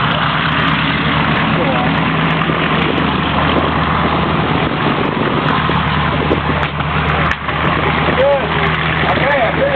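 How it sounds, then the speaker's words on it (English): Piston engines of a B-25 bomber running steadily and loud throughout, a dense continuous drone with a few sharp backfire pops near the end; people talk over the noise. "Is that typical for it to backfire?"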